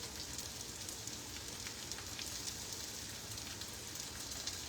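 Eggs frying in a pan give off a steady, dense sizzling hiss flecked with tiny crackles, close and continuous, with no one speaking.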